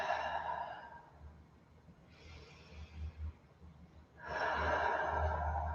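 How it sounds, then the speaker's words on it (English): Deep, slow breaths drawn in and let out during a yoga pose, two long broadband exhalation swells close to the mic with quiet pauses between, no talking. "Take a couple deep breaths"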